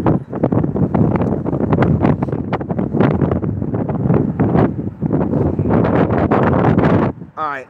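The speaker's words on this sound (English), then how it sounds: "I know there's a lot of wind happening right now." Heavy wind buffeting a microphone outdoors at night, a loud continuous rumbling roar with gusty surges that runs almost without pause before dropping away at the very end.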